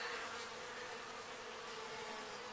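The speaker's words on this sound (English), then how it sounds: "All these bees that were left out when I put the cap on are finding their way in." A dense, steady insect buzz of a honeybee swarm being hived close by, continuous and unbroken throughout.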